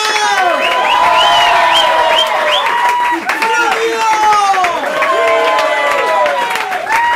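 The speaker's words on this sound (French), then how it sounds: "Et on applaudit bien fort ce soir pour le nom concept bar" Loud, sustained applause and cheering from the audience at an improv theatre show, with whoops and shouts over dense clapping while a host talks through it.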